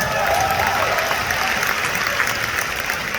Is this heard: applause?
yes